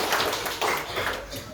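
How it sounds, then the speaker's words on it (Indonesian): A church congregation claps together in a short burst of dense, bright applause that fills the room and stays steady throughout. "Berikan tepuk tangan Tuhan"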